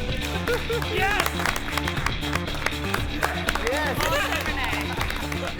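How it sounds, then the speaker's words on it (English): Gantry audience in a cooking competition studio cheering and clapping, scattered applause and excited shouts mixed with music and people talking over it. "The gantry starts cheering."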